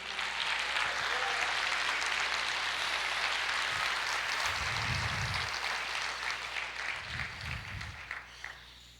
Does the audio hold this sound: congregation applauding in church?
yes